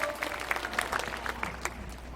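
An audience at a Buddhist dharma ceremony at Beopjusa temple applauds steadily, with moderate, continuous clapping at some distance throughout.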